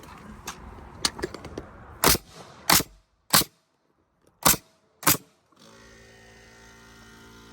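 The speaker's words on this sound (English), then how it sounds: "So I can go ahead and take the nail gun" Nail gun firing into wooden barn door boards: sharp, loud cracks, several irregular shots then five evenly spaced single bangs with short gaps, followed by a steady compressor-like hum.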